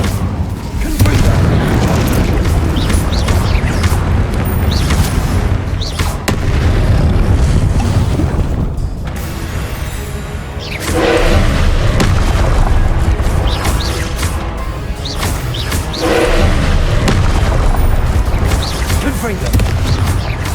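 Repeated Confringo spell explosions in Hogwarts Legacy combat land as loud, dense booms and crashes, almost nonstop, with shouted spell names heard among them.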